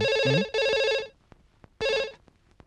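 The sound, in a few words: telephone ringing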